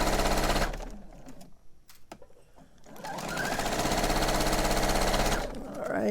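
A sewing machine runs loud and fast along a straight seam on an envelope pillow cover, pauses briefly with a few soft clicks, then resumes its steady rapid whir.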